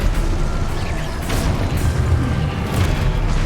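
Spell explosions from Expulso and Confringo in Hogwarts Legacy: a steady, loud rumble of booms and bursts with a few sharper blasts standing out, and no talk over them.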